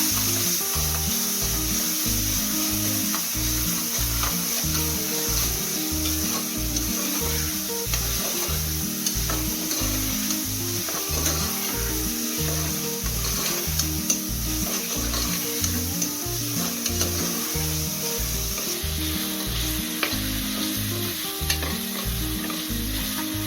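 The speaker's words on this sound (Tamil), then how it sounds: "தக்காளியும் நல்லா வதங்கட்டும்." Tomatoes sauté in a pan for prawn biryani, with a loud, steady sizzle and a regular rhythm of stirring strokes scraping the pan, continuing close and unbroken with no talking.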